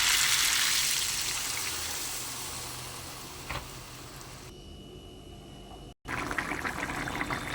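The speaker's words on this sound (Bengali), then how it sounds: "এবারে পরিমাণ মতো জল দিয়ে দেবো।" Water pours into a hot pan of sautéed cauliflower and potatoes with a loud rushing hiss that gradually eases, breaks off briefly, then resumes as a bubbling simmer.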